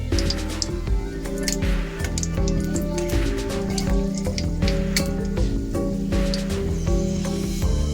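Whole bay leaf, dried chilli, peppercorns and cinnamon sizzling in hot oil for a Kolkata-style chicken rezala, a soft continuous crackle beneath steady background music.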